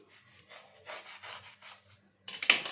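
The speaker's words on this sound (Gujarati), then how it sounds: "હવે આપણે જે બ્રેડ લીધી છે આવી રીતે કટ કરશું વચ્ચેથી." A knife saws through bread in several short rasping strokes, close and quiet, followed by a louder burst of clatter at the end.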